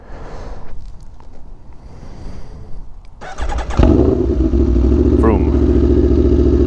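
A 2017-2020 Aprilia Tuono V4 motorcycle cranks over after a stretch of quiet handling clatter, then catches and settles into a loud, steady V4 idle close by.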